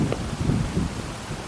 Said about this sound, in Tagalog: Guys, napakalakas ng hangin dito. Dito sa Aurora.